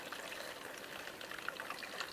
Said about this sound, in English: See, I poured in the vinegar